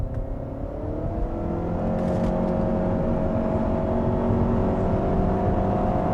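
A Lexus hybrid with a CVT transmission accelerates, its engine drone climbing and then holding at a steady rising pitch under light road noise, heard from inside the car with no talk.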